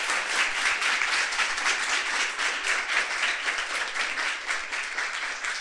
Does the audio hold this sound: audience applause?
yes